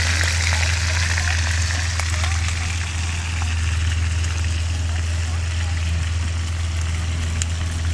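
A whole fish or animal fries in hot oil with a steady, loud crackling sizzle and a low hum underneath, continuous throughout, in an outdoor countryside setting where people talk nearby.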